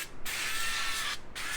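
Pam cooking spray hissing onto a non-stick oven rack in two bursts, a long close spray, a brief stop, then a second spray.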